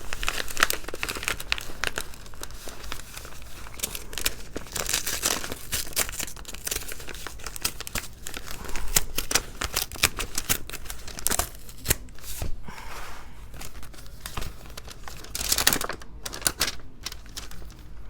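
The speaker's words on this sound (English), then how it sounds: "Tear the pages out, cut the pockets off." Paper pages ripped out of a junk journal, a long stretch of close, loud tearing and crinkling with repeated rips and rustles, continuous and busy with only brief pauses, no talking.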